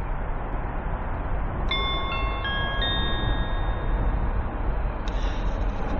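Non-stopping train running toward Wandsworth Town station: a steady, loud rumbling roar throughout, joined by a sustained multi-tone horn blast that steps through several pitches midway, then a brief higher horn note near the end.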